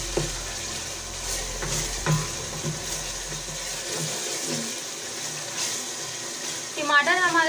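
Tomatoes sautéing with ginger and garlic in a pan until soft, giving a steady, moderate sizzle with scattered stirring clinks throughout and a brief rise in activity near the end.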